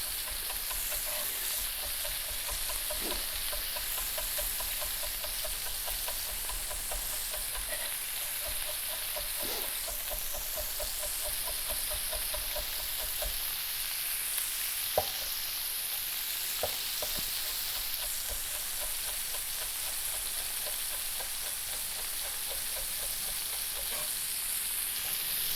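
Pork pieces sizzle steadily in a hot pan for teriyaki, with a constant bright frying hiss and occasional soft scrapes and clicks of stirring, close and continuous with no talking.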